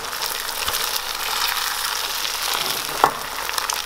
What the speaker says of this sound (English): pull the eggs away from the edges, tilting the pan a little bit, just helps the eggs cook really quick